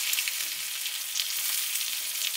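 A NY strip steak searing in a hot pan gives a steady, bright sizzle and crackle, constant and close with small popping flutters and no talking.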